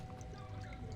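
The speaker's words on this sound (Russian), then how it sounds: "Звук воды." Water in the video game Prince of Persia: The Sands of Time pours and splashes in a brief, continuous wash over a low rumbling bed, with no voices.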